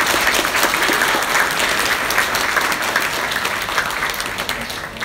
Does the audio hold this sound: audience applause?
yes